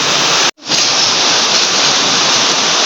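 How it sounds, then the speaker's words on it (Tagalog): A pot of water at a rolling boil on the stove, with oil added, ready for spaghetti; a steady, dense bubbling hiss runs loud and close, broken by a brief near-silent gap early on. "meron na rin po ditong pinapakulong tubig"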